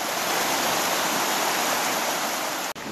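A river current flows and rushes steadily nearby, a dense, even wash of water noise that holds constant with no voices, apart from a brief dip near the end.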